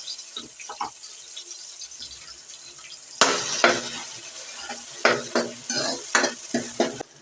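Onions frying in hot oil in a home kitchen, a quiet simmer that swells into a loud, bright sizzle with repeated scraping stir strokes and bursts of crackle, close by with no talking.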